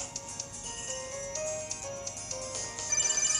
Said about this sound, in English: The app rang on your PokéNav Plus